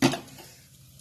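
A spoon scrapes and clinks against a pan while popcorn kernels with turmeric are stirred over a high flame, one sharp clatter at the start fading into soft rattling.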